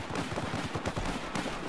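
Gunfire rattles in a Battlefield 4 squad deathmatch, a rapid string of shots at moderate distance, steady and busy throughout with no talking.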